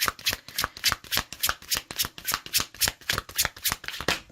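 Tarot cards are riffled and shuffled in a fast, even rhythm of crisp papery flutters, close and clear with no voices.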